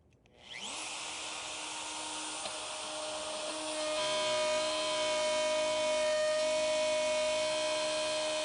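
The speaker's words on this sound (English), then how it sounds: "I can start the router with the bit above the workpiece, plunge it straight down," Wood router spinning up from rest and running steadily as it plunges into a workpiece, a high whining tone with strong harmonics that rises within the first second and holds loud and continuous, growing slightly fuller midway through the cut.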